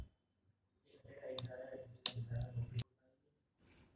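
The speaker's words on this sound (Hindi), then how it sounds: "ये हम कार्ड स्वैप कर रहे हैं" A card is swiped across a Secureye S-AC fingerprint and RFID access reader, giving a few close, quiet clicks and rattles in short bursts separated by brief pauses, with no talk.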